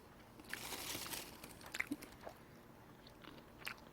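Raw, pesticide-free aronia berries being chewed close up, with soft crunching and biting bursts scattered across a few seconds, fairly quiet and with no talking.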